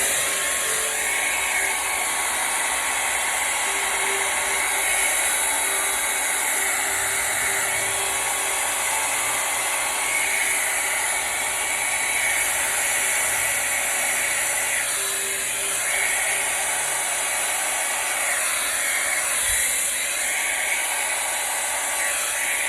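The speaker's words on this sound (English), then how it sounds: "And let's grab that blow dryer." A blow dryer runs continuously at close range, drying acrylic pour paint with cell activator spun on a pottery wheel, holding a steady, loud whirring hiss for the whole stretch.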